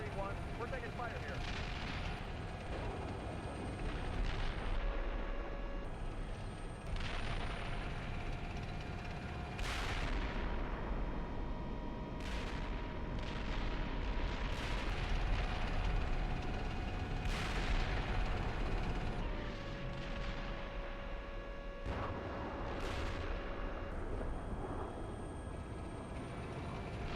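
Repeated gunfire and artillery bursts hit in Steel Beasts Pro, a tank combat game, arriving every few seconds as sharp broadband blasts over steady engine hum and radio chatter.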